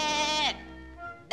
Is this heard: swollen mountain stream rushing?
no